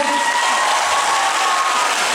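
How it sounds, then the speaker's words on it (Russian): An audience at a Chuvash dance competition applauds loudly and steadily, a dense, even wash of clapping with no breaks throughout. "Итак, незатейливые бесплатные аплодисменты, друзья."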